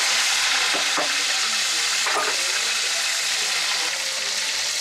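Loud, steady sizzling of whole lobster frying in hot oil after boiling, seasoned with salt and garlic, with a couple of faint clinks from cooking.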